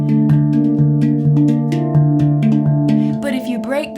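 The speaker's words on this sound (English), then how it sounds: "everyone's playing stuff on a D kurd that just sounds like a D kurd" Handpan tuned to a D kurd scale, struck in a steady, ringing melodic pattern of resonant tones up close, with a shimmery, slightly wavering passage near the end.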